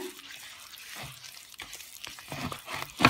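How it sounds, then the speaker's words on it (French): Egg and vanilla sugar are mixed by hand for shortbread dough, giving soft, irregular squishing and stirring sounds close by with quiet gaps between strokes, ending in a louder rub. "On va mélanger à la main d'abord. Donc là, j'ai rajouté l'œuf et le sucre vanillé."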